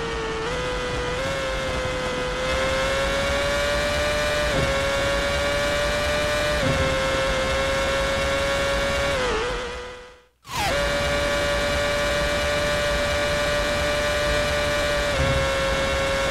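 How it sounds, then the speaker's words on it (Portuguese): A Formula 1 car in BeamNG.drive races at high speed with a loud, steady high-pitched engine whine. The pitch climbs slowly, then drops away and cuts out briefly before the engine returns at full revs. "Um carro de Fórmula 1, tiozão."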